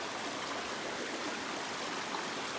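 Steady broadband rush of a sizeable mountain creek in the Rockies at Mount Robson Provincial Park, continuous close water flow with no pauses and no voices.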